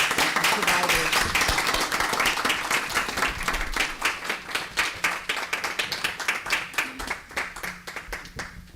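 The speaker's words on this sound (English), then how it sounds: "Let's applaud, please, for our emergency medical services providers." A village board meeting audience gives sustained applause for emergency medical services providers, with dense clapping that settles into a steadier rhythm and some speech underneath.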